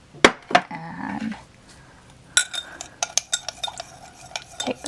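A spoon stirs and scrapes a borax and purple glue slime mixture that refuses to come together, giving a run of close, quick clinks and scrapes after a few earlier knocks, with no talking.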